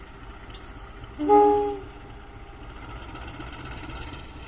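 A brief horn from the passing Malioboro Express passenger train sounds once, fairly close, over a steady rumble of rail and station background noise.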